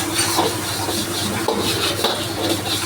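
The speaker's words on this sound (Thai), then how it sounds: "ตอนที่เราเร่งไฟเราอย่าหยุดคนอย่าหยุด สะบัดกระทะอย่าหยุด" Rice is stir-fried in a wok and the pan is tossed continuously, giving a constant rattling, scraping clatter with faint sizzle and rhythmic knocks close by, without speech.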